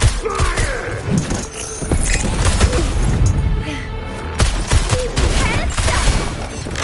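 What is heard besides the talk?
gunfire from a video game, Wuthering Waves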